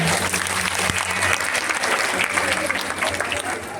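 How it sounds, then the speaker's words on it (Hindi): An audience at a spiritual talk breaks into loud, continuous applause, many hands clapping steadily throughout with a low hum underneath. "बहुत बड़ी जोरदार तालियां"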